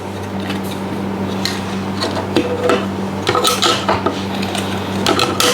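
Metal clatter and clinks as a metal bottom plate is fitted onto an amplifier, with a run of sharp taps and scrapes that gets busier toward the end over a steady low hum; no one speaks.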